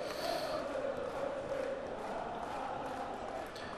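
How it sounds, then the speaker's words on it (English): A stadium crowd in the PES 2014 football video game murmurs as a steady, continuous wash of noise, loud and even from start to finish with no distinct shouts standing out. "Crowd getting fidgety."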